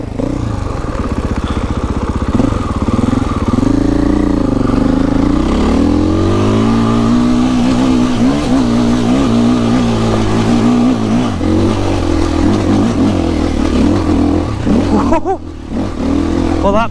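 An enduro motorcycle climbs a steep slope, its engine running loud and steady throughout, the pitch rising and falling as the rider works the throttle on the ascent, with a brief dip near the end.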